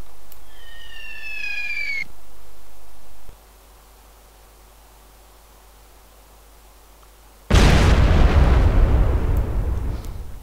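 Mortar strike in the video game Arma 3 Zeus mode: a sudden loud explosive burst after quiet stretches, its broadband roar sustained and slowly fading, with brief whistling tones heard early on.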